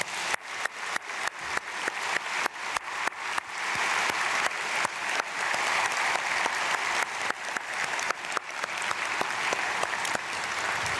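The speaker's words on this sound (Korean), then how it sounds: "우리 박수로 축복하겠습니다" A church congregation claps together at an early-morning prayer service, first in a few uneven bursts and then in sustained, fairly close applause that fades toward the end.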